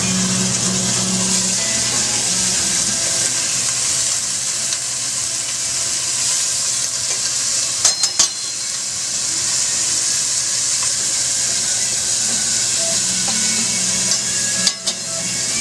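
Cube steak for chili con carne sizzles loudly in a pot, a steady bright hiss with a couple of brief clinks as it settles.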